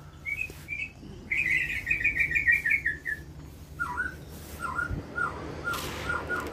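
A white-rumped shama sings nearby: a rapid warbled trill, then a series of short whistled and chirping phrases repeated at intervals.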